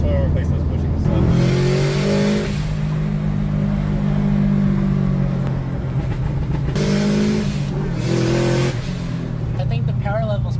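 A Subaru driven hard on the throttle through corners, its engine roaring loud and continuous with rising and falling revs, and a voice talking over it.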